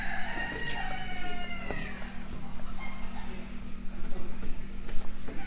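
Chickens and roosters at an indoor poultry show, several overlapping crows and clucks sounding near and far over a steady background hum, with people talking faintly beneath.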